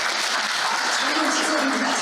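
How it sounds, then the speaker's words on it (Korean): An audience at a Korean community year-end gala in Seattle claps to welcome a deputy consul general, with dense, steady applause filling the room throughout. "우리 박수로 맞이해주시기 부탁드립니다."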